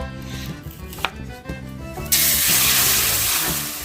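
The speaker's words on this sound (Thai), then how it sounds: "จะหั่นเป็นชิ้นแบบนี้เลย" A knife chops fish into pieces on a board for a Thai coconut curry, a few sharp, near cuts, followed by running water from a tap that continues loudly to the end.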